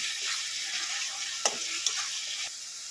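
Spices with Kashmiri chili powder and cumin sauté in oil for a doi katla fish curry, giving a continuous soft sizzle with a few sharp spoon scrapes and taps against the pan.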